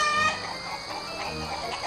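A chicken clucks in a short burst of farmyard fowl sounds, fairly loud and close, heard alone without talk.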